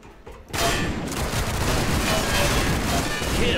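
Dense, continuous gunfire from the Line of Sight shooter game kicks in abruptly after a quiet half-second and keeps hammering nearby without a break until the end.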